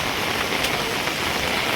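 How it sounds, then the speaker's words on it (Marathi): Heavy rain pours down as travellers prepare to drive toward Vashi, a steady, close, hissing wash of falling water with no talk over it. "खूप पाऊस आहे बघा."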